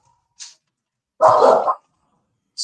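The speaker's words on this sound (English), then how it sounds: "The guard dogs." Guard dogs bark outdoors: a short yip, then a loud burst of barking lasting about half a second, and another bark starting right at the end, with silence in between.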